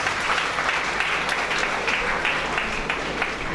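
An audience at a university event in Dhaka claps continuously, a dense, steady wash of applause that stays fairly even in loudness throughout.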